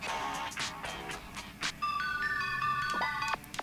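A bright electronic ringtone melody of sustained tones plays on an in-game phone in GTA V, preceded by a series of short beeping button tones.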